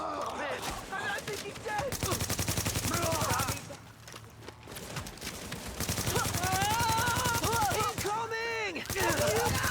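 Video-game gunfire rattles in rapid bursts, loud and close, under excited shouting voices and music, with a brief lull before the firing resumes.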